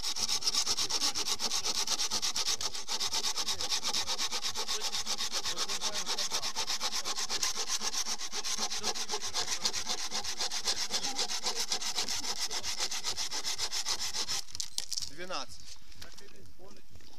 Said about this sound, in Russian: Так, пиляем дерево.